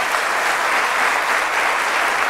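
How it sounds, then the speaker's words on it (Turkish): Studio audience applause on a televised quiz show, a loud, continuous roar of many hands clapping at once, even and unbroken. "Bir alkış alabilir miyiz?"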